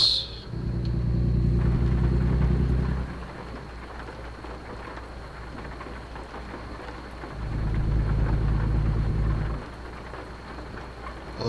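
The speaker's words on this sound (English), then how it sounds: "I love the sound of that rain." Rain falls steadily with a broad hiss, while low, loud rumbling swells rise and fade twice over it, like heavy rolling thunder or a passing engine.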